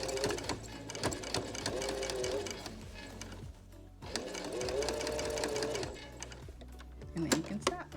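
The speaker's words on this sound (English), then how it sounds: "make sure that you go over your beginning stitches so you put some stability in your stitch" Sewing machine running steadily as it stitches fabric for a pillowcase shirt, backstitching over the starting stitches, with a loud, close, rhythmic whir in stretches, pausing briefly between runs, along with some background sound.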